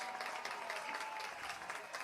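A crowd at a high school football event, Fannin High versus Gordon Central, applauds the coaches, a faint, distant wash of clapping that stays even for the short moment heard.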